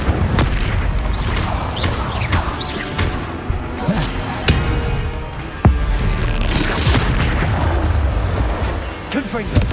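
Spell blasts in Hogwarts Legacy land as repeated booming impacts and crashing hits, dense and loud throughout, with sharp strikes punctuating a busy battle din and a voice heard over the action.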